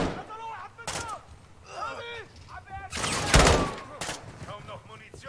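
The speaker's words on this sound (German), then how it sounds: "Du verballerst deine ganze Munition hier für die ganzen Hämpflinge." Gunfire in the video game Modern Warfare 2, several sharp bursts and a longer louder volley between stretches of someone talking.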